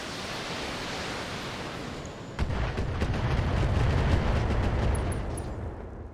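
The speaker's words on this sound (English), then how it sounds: "Okay, AC-10 ammo explosion there." An AC-10 ammo explosion in the BattleTech video game bursts midway as a sudden deep boom, followed by a sustained rumbling roar that swells and slowly fades over a background of noisy hiss.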